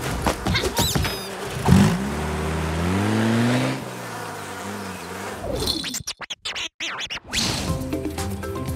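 A car starts and drives away, its engine note climbing then fading, while buzzing flies whine around it before and after, with a choppy, stuttering stretch near the end.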